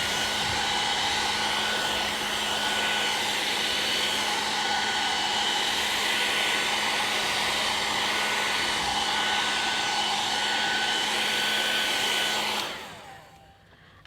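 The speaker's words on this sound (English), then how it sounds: "And I'll just give it a bit of a heat blast again." A heat tool blasts hot air over alcohol inks on Yupo paper, a loud steady roaring whoosh running close and unbroken for about twelve seconds before cutting off abruptly.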